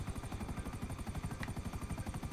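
Helicopter in the video game GTA 5, a steady, close rotor chop pulsing rapidly and evenly throughout with a dense low thrum, no voices over it.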